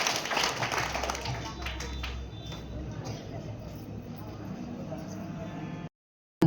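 An audience at a de-addiction awareness gathering claps for someone playing Kumbhakarna, a soft rattle of scattered clapping over room noise and murmured voices that cuts off abruptly.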